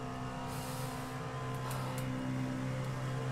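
Race car engine held in sixth gear in a racing video game at Spa, a steady, loud, droning hum with little pitch change, heard alone.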